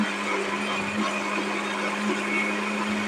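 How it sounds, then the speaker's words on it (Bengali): Electric kitchen blender grinding garlic in a home kitchen, a steady loud whirring motor hum that holds constant for a few seconds with no talking. "এখন রসুন ব্লেন্ডার করতেছি দেখুন"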